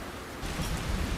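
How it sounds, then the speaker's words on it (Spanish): Rain starts to fall softly outside a house at night, a steady wash of low hiss that thickens partway through. No voices. "Afuera empezaba a llover, muy despacio."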